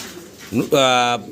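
A young pair of Budapest pigeons coos close by, a short throaty note followed by a sustained resonant coo.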